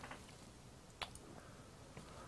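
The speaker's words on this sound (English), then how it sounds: "I'll just wash these brushes." Paint brushes are swished and dabbed in water, giving faint, soft squishing and small dripping splashes with a couple of light taps, heard close and quietly with no talking.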